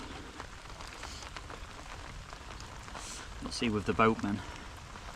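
Steady rain pattering onto a lake and fishing gear during a winter carp session, a constant wash of hiss under someone talking briefly near the end.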